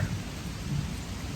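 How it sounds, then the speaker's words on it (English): Heavy rain pours steadily outdoors during a long walk, with low rumbling thunder rolling underneath; a dense, continuous wash of sound close around the listener, with no voices. "It's pouring, raining."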